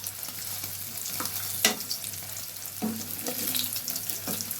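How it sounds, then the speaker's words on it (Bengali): Paneer cubes frying in a pan, a soft continuous sizzle broken by a few sharp clinks and scrapes as the pieces are turned over, close and fairly quiet with no speech. "ভালো করে উল্টে পাল্টে দেখে ভেজে নিতে হবে পনিরগুলো।"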